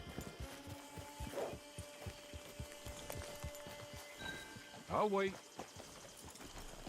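Horse hooves clip-clop in a steady walking rhythm in Red Dead Redemption 2, close and distinct, while a character speaks briefly and a horse snorts or whinnies midway.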